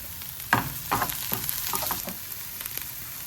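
Green chilies go into onions frying in a pan for chicken liver curry, giving a steady close sizzle broken by a few sharper crackles and spoon scrapes, with no voices.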